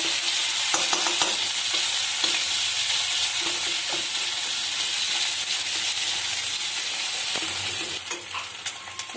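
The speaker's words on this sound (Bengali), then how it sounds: "রসুন বাটা আদা বাটা আদাটাকেও ভালোভাবে ভেজে নেব" Garlic and ginger paste fries loudly in a pan, a dense continuous sizzle with scraping stir strokes throughout that eases slightly near the end.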